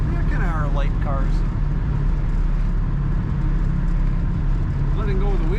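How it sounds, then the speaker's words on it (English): A stock 1966 Ford Mustang convertible cruises down the highway with a steady low engine and road rumble. Someone talks over it at the start and again near the end. "I would say a very stock sounding Mustang."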